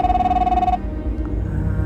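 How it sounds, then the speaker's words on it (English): A telephone rings in a tense scene of the video game The Fidelio Incident, one steady electronic trill lasting under a second before cutting off into low ambient rumble. "Oh, it's the phone, not my radio."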